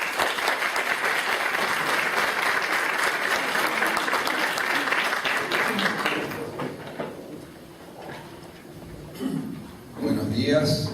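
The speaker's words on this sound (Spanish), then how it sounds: "Monseñor, un aplauso." An audience at a 2017 pastoral health gathering applauds a visiting bishop with loud sustained clapping that fades after several seconds, leaving a quieter room where a voice then speaks.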